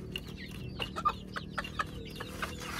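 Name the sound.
chickens and chicks clucking on a farm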